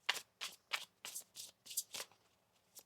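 Repeated riffling of a tarot card deck, about eight crisp shuffling bursts in an even rhythm, close and clear with short pauses between them.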